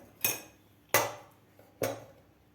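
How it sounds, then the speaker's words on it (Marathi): A cooled pressure cooker's lid is worked off: three sharp metallic clanks spaced about a second apart, close and fairly faint, in an otherwise quiet kitchen. "कुकर आपलं थंड झालेलं आहे आता आपण झाकण काढून बघूया"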